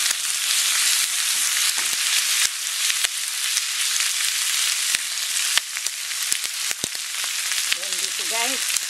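Chicken gizzards frying in a pan give off a steady, loud, dense sizzle that runs the whole time, with scattered stirring clicks and a brief squeak near the end.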